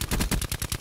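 Gunfire aimed at the player during a Black Ops 4 team deathmatch on PS4, a quick burst of about eight evenly spaced automatic shots, loud and close, lasting under a second.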